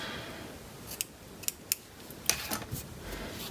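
Scissors trimming the loose end of a yarn pom-pom in a craft setting. Several sharp, close snips fall unevenly over a faint background hiss, with no voice.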